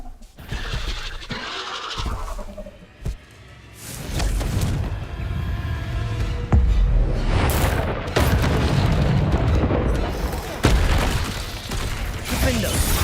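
Repeated explosive booms from the Confringo blasting spell in a video game land through the clip alongside other spell effects and mechanical clatter, with a voice speaking over the loud, dense action.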